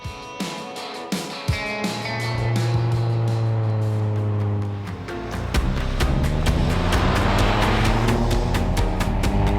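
A 2018 VW Golf GTI hatchback drives along a road, its engine note rising through gears with steady close engine drone, gear changes and road noise continuously loud.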